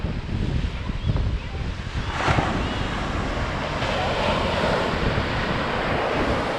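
Surf rolls onto the beach at Dolphin Cove in Cape Arid National Park, a broad continuous wash of waves heavily buffeted by wind noise on the microphone.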